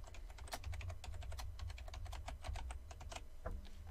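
Rapid keystrokes on a computer keyboard as a password is entered, a close, quiet run of light clicks in an even rhythm, pausing briefly near the end, with no talking.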